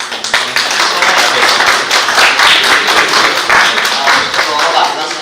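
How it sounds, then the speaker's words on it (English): Audience applause at an IT expo in Jaipur, loud and close, with rapid, dense clapping that sustains evenly for about five seconds, plus a hint of voices under it. "Let's have a round of applause, guys."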